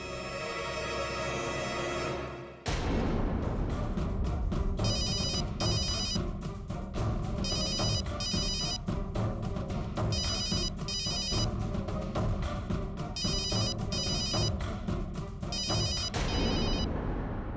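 A telephone rings out as a police call is placed during a tense household emergency in a TV drama, starting after a brief lead-in and repeating in regular electronic bursts for about fourteen seconds, loud and with no talking.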